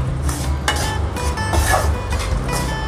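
Jaggery melting in a pan for makhana laddu, stirred with a spoon that scrapes and clinks against the metal in close, uneven strokes, joined by faint sizzling.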